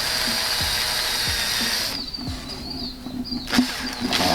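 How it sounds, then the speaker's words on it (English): A power drill whirs steadily, drilling holes for mounting tabs on a gauge cluster in a Datsun 280Z, its pitch shifting midway, then a sharp knock and a brief rattle near the end. "We gotta drill some holes for these little tabs that are right here."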